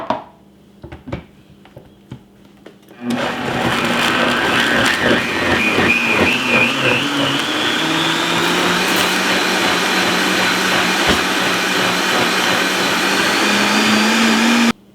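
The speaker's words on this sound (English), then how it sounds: "I'm going to put this down in my blender." A loud blender motor whirs steadily, blending food with a cup and a half of chicken broth, after a few seconds of clinking and handling sounds, its pitch shifting slightly as it runs without pause.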